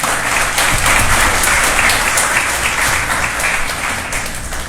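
A congregation at a Sunday worship service claps loudly and continuously, a dense, close wash of hand claps that holds steady before easing slightly at the end.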